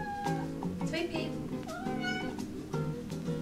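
A pet cat named Sweet Pea meows repeatedly in short, tonal cries close by, several rising and falling calls spread across the moment, with a person talking alongside.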